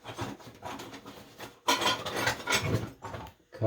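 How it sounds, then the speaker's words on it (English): A small hand hacksaw cutting through a shower valve pipe, with rhythmic rasping back-and-forth strokes that stop briefly and then resume, close and alone. "I'm using my little hacksaw to"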